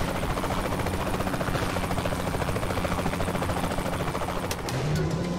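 A helicopter in Saints Row The Third drones with steady, loud rotor chop and engine whine throughout, close and continuous.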